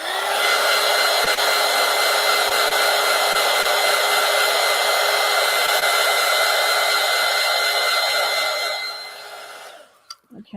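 Hair dryer blowing steadily up close to dry black acrylic paint, a loud even whir with tonal whine that runs about nine seconds before switching off and fading.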